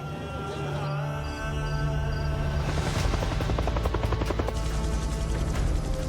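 Military helicopters carrying Special Forces rotors thump steadily and loudly over Somalia, with an engine drone throughout and rapid chopping beats that grow stronger partway through.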